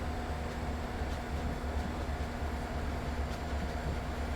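A train in a railway video game rumbles steadily along the track, a continuous loud low drone with faint rhythmic clatter throughout and no talking.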